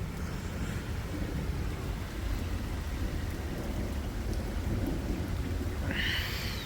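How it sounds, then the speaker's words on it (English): A long, deep roll of thunder rumbles continuously through a steady rainstorm in West Edmonton, with rain hissing underneath and a brief high chirp near the end. "And the thunder."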